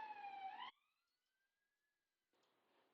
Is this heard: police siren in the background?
yes